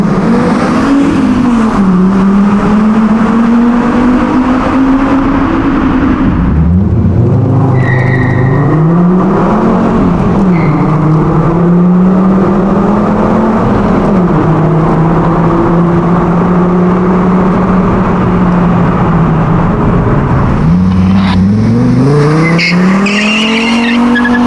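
Fiat Brava fitted with a Marea 2.4 engine and automatic gearbox revs hard, its loud engine note climbing, dipping and rising again through repeated surges, close and alone without talk.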